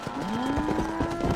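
Cattle mooing in the Red Dead Redemption video game, a long rising low moo that holds steady, close and clear over a busy ambient game background.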